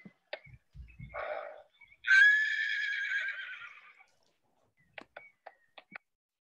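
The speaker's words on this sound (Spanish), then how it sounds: "Sonidos de caballos." A theatre sound effect of horses: a few faint clip-clop knocks, then one loud, drawn-out whinny of about two seconds, then scattered light hoof clops.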